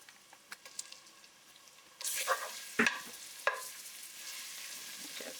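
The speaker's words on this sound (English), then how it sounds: "gonna saute this for a little bit." Grated ginger sautéing in oil for Trinidad-style fried rice: quiet at first, then a sudden burst of sizzling followed by a few sharp utensil scrapes and a lingering low hiss.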